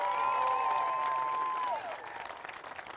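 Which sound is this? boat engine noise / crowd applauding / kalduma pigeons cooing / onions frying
crowd applauding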